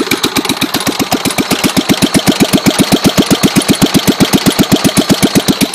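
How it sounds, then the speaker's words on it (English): Kohler engine on a John Deere 210 lawn tractor running at idle with no muffler fitted, a loud, close, rapid and steady chain of sharp exhaust pops that carries on without pause and with no talk over it. "that's what a Kohler sounds like with no muffler on it"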